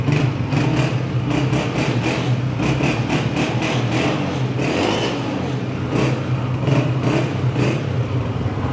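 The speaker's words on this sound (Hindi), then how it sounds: "17 मॉडल होंडा 125 4391 नंबर और ओरिजिनल नंबर प्लेट के साथ। इंजन चेक करो" A 2017 Honda 125 motorcycle engine runs close and loud, a steady throbbing idle broken by repeated quick blips of the throttle, with no voices over it.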